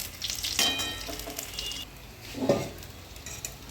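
Vegetable chops deep frying in oil at home, a dense close bubbling sizzle that eases off midway, with a couple of clinks of a utensil against the pan and no speech.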